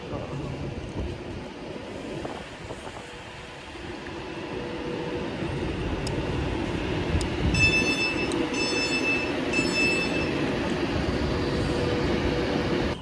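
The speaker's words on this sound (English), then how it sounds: "Departing now is 39121 opportunity on the 1710 Avanti West Coast service to London Euston." Avanti West Coast Class 390 electric train departing Stoke-on-Trent station, a steady rising rumble of rolling stock with faint high squeals and chimes, heard from the platform amid background noise.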